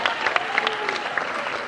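Awards ceremony audience clapping for the Toro Kingdom, a brief steady burst of applause with crowd murmur and a few sharper individual claps standing out.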